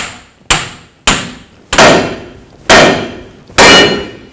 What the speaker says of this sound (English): I'm going to use a pickle fork to separate this.